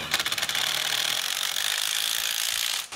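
A ratchet being worked to tighten a nut on an ornament ring gives rapid, close clicking pawl bursts at the start, then a steadier continuous mechanical whirr that cuts off near the end.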